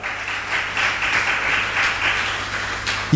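An audience claps together in a steady burst of applause for about three seconds, fairly loud and even, with no speech over it.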